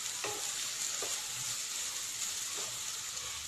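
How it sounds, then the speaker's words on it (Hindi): Onions and long-cut capsicum for veg hakka noodles stir-fry in a hot pan, a bright constant sizzle broken by a few clattering stirs and scrapes, close up and with no voices. "इस स्टेज में मैं यहाँ पर कैप्सिकम ऐड कर देती हूँ, इसे भी मैंने लंबा लंबा फाइनली चॉप कर लिया था। इसे भी हम अच्छे से मिक्स कर लेंगे।"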